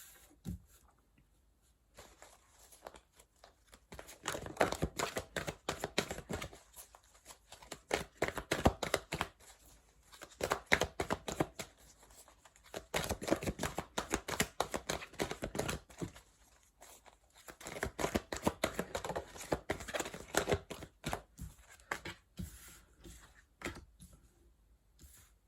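Tarot cards shuffled close by in long runs of rapid, crisp riffling and flicking clicks, broken by short pauses between rounds, with no speech over them.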